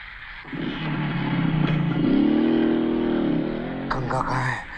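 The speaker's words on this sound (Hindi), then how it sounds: "गंगा मोटरसाइकिल लेके भाग गई" Motorcycle engine revving steadily then surging as a rider flees in an action scene set near a curfewed border village, loud and sustained with a brief whoosh near the end.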